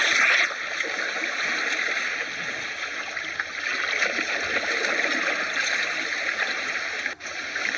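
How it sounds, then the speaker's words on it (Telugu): Continuous rushing flow of a small forest stream near a gurukul at dawn, a steady close wash of water with light splashing and no pause. "వారు తెల్లవారుజామున నిద్రలేచి స్నానానికి దగ్గరలో ఉన్న ఒక వాగుకు చేరుకున్నారు."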